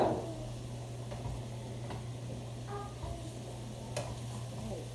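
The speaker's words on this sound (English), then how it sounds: "We're gonna give that one more stir." A spoon stirs fajita vegetables through oil in a hot pan, sizzling steadily with a few scraping strokes and light clicks against the pan, close and alone without speech.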